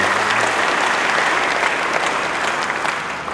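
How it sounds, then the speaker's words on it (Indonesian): A church congregation claps during a sermon, a thick, loud burst of applause that holds evenly for a few seconds with no speech over it. "Yang percaya beri tepuk tangan yang baik bagi dia."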